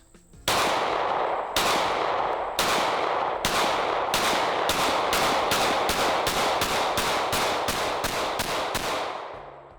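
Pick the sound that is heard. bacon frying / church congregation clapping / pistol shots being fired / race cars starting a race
pistol shots being fired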